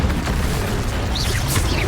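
A fire or blast spell goes off in the video game Hogwarts Legacy, a dense booming burst with crackling debris filling the whole moment, loud and close.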